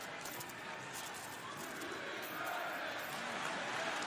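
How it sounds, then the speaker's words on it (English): Wrestling fans in an AEW arena roar and chant steadily as CM Punk pounds MJF, a dense, sustained crowd wash that swells slightly louder toward the end. "And fans are cheering this, man."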